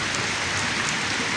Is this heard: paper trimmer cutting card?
no